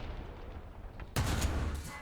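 In War Thunder, a tank cannon round slams into the player's tank, a sudden loud impact bang cutting through low engine rumble and ringing out with a short metallic tail.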